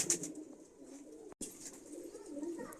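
Silver-line pigeons coo steadily in a loft, soft repeated throaty calls at close range with a brief gap of silence midway.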